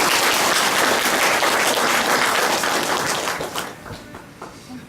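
A church congregation applauds in a dense, steady burst of clapping that tapers off and fades toward the end.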